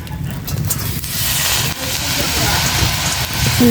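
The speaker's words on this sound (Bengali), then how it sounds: "তা আমার কড়াইটা গরম হয়ে গেছে গা তো প্রথমে শাকটা দিয়ে দেবো শাকটা দিয়ে দিই" Leafy greens drop into a hot kadai on a clay stove and sizzle with a loud, steady, close hiss that swells slightly toward the end.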